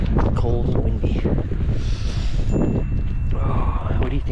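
Wind gusts buffet the microphone on a cold, rainy winter storm camping trip, a loud rough rumble that runs the whole time with people talking over it.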